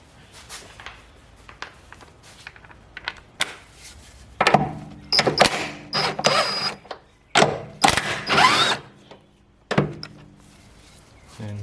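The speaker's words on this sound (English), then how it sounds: "We have to undo this 17 mil bolt." Ratchet working a 17 mm bolt loose on the front suspension of a Ford AU Falcon, heard as scattered clicks and clunky metal bursts in uneven groups, fairly close, with quiet gaps between.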